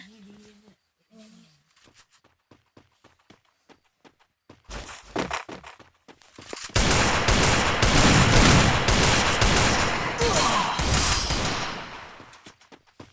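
Rapid gunfire from a gun in the Free Fire video game: a few scattered shots and thuds, then a dense, loud burst of sustained automatic fire over several seconds.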